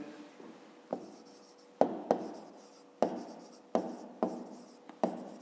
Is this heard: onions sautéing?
no